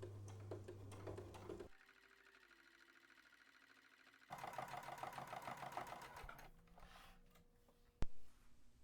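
A sewing machine top stitches a flat felled seam with the needle set to the left, running slowly in steady rhythmic bursts, pausing midway with a low hum before stitching resumes and ending on a sharp click.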